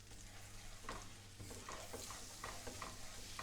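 Flour and spring onions stirred in a frying pan, a quiet sizzle under repeated soft scraping strokes of a spoon against the pan.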